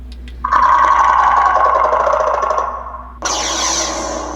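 A LaTha lightsaber fires its Hunter blade ignition: a sudden buzzing electronic tone kicks in, hums steadily, fades, then a second brighter ignition burst returns with a crackling hum, loud and close with no voices.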